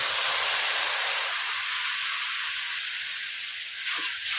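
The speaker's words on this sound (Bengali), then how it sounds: "সামান্য জল দিয়ে দিচ্ছি।" Water poured into a hot pan of masala with cumin powder for rohu fish curry sets off a loud, steady hiss of steam and sizzle that eases slightly toward the end.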